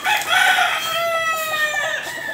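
A rooster crows loud and close in one drawn-out call lasting about two seconds, with a clucking edge from a backyard flock of chickens.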